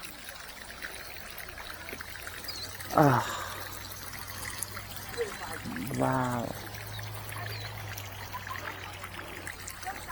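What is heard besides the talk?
flowing volcanic hot spring water at Yellowstone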